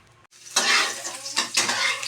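Garlic frying in a wok for garlic fried rice made with leftover rice, a sharp burst of sizzle after a brief silence, then close hissing with scraping stirs of a utensil.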